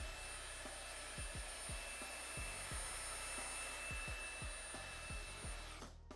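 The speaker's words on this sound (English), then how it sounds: "grab a vacuum with a bristle end and vacuum your keyboard" A vacuum cleaner fitted with a bristle brush end hums steadily and quietly while cleaning a mechanical gaming keyboard, with repeated soft thumps and rubbing as the brush moves across the keys, alone without speech.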